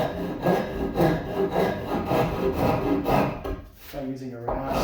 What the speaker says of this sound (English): by using a rasp